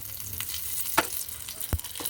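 Tempering spices sizzling in hot oil, a low, steady frying hiss broken by two brief sharp pops or clinks, heard alone without speech.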